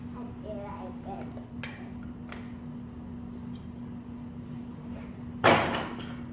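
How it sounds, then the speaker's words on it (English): A toy block garage door shuts with a single sharp clatter near the end, after a stretch of quiet room noise with soft talking and a steady hum. "Garage door is closed."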